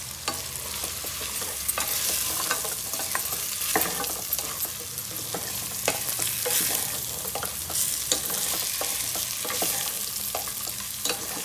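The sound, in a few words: food frying and being stirred in salt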